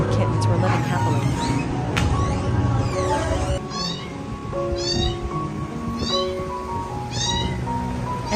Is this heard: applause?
no